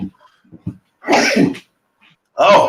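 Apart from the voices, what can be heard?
sneeze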